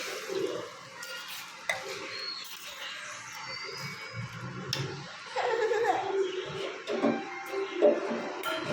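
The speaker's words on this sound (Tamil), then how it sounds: "தண்ணி ஊற்றிக்கலாம்" Water is poured into a hotel-style Tamil chicken kulambu, giving an uneven splashing, gurgling rush of liquid alongside some clinks and faint background sounds.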